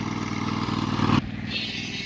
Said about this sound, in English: There goes the kitty tractor ride.